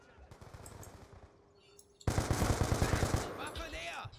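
Machine gun fire from the video game Black Ops 2: a quieter stretch of distant shooting, then a sudden loud burst of rapid automatic fire for about two seconds that fades into faint noise.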